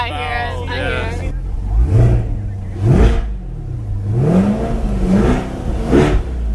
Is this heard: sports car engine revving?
yes